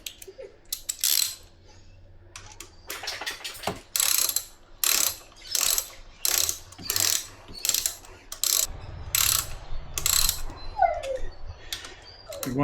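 Ratchet wrench with a 10 mm socket tightening a bar riser on a KTM 890 Adventure motorcycle, giving repeated bursts of quick ratcheting clicks in a steady rhythm, close and clear with no talk.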